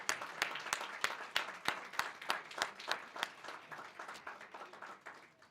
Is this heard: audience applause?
yes